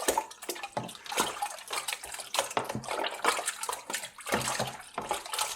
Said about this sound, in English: Give it a nice vigorous stir